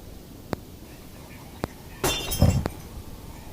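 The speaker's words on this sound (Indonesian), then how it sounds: "botol yang tadinya bergerak tiba-tiba pecah karena jatuh dengan sendirinya" A glass bottle falls and shatters indoors, a sudden loud crash with a brief spray of breaking glass and tinkling shards. Several sharp ticks sound before it in an otherwise quiet room.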